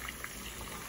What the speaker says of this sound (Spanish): ya se está friendo el chile aquí